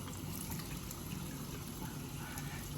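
Running tap water being cupped in the hands and splashed onto the face while washing off makeup at a sink, a continuous quiet gushing and splashing that stays at a steady low level throughout with no voice.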